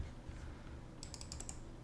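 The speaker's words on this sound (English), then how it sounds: "sorry, my keyboard is not working" Fast keystrokes on a computer keyboard at a developer's desk, a short burst of crisp, close clicks in the second half over a low background hum.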